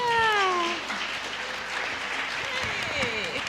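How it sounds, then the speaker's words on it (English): Audience at a past lives and karma panel at a New Living Expo cheering and applauding for the panelists, a broad wash of clapping and crowd noise, with a cat-like meowing or whooping voice at the start and voices calling out within it. "let's give a big cheer to all our panelists here"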